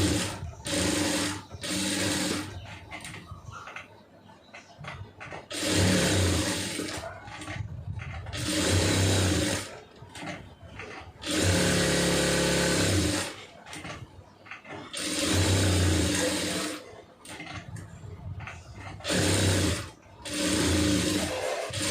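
Stitching a poonam saree on a sewing machine brings a busy mechanical whir and clatter that surges and eases in repeated runs over twenty seconds, close and steady, with no voices.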